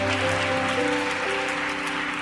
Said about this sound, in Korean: 큰 박수로 한번 목사님 환영해 주시기 바랍니다